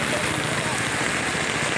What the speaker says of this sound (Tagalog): tuloy-tuloy na malakas ang ulan